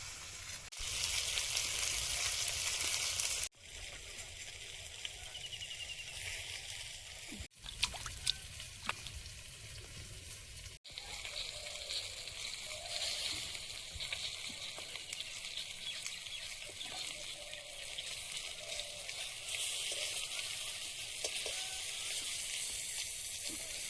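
Small river fish fry in a pan, filling the scene with a constant loud sizzle and hiss. Brief breaks and a few scattered clicks or pops interrupt it, and no one speaks.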